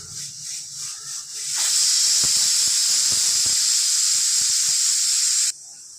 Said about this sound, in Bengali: তো প্রেশার কুকারে সিটিটা পড়ে গেছে